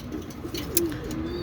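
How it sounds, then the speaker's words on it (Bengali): A pair of pigeons cooing close by, with a soft, low, drawn-out coo over faint background noise. "এটা হচ্ছে আমাদের কবুতর মহাশয়রা"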